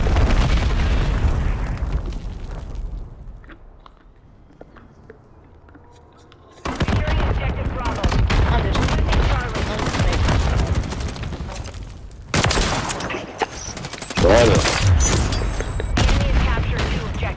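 Call of Duty gunfire and explosions come in heavy loud bursts, with rapid shots, booming blasts and dense battle noise, broken by a quieter lull of a few seconds.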